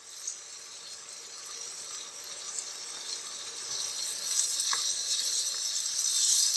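Mutton liver sizzling in a pan with ginger garlic paste, a steady bright frying hiss that swells slightly louder toward the end, with no voices.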